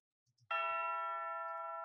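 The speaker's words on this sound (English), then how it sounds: "Tubular bells." A single Sonic Couture virtual tubular bell strike rings out clearly with a bright metallic tone, sustaining and slowly decaying after a couple of faint soft taps.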